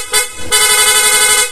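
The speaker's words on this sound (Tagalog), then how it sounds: "Then, PIA horn with combo and rapid light" Loud PIAA horn fitted on a Honda PCX scooter, a bright harmonic blare with a short toot followed by a sustained honk that holds to the end.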